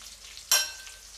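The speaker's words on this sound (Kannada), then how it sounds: "ಹಾಕ್ಕೊಂಡು ಒಂದ್ಸಲ ಚೆನ್ನಾಗಿ ಫ್ರೈ ಮಾಡ್ಕೊಳ್ಳಿ." Green chillies and sliced onion go into a hot pan, setting off one sudden loud burst of sizzle that fades quickly to a quieter hiss.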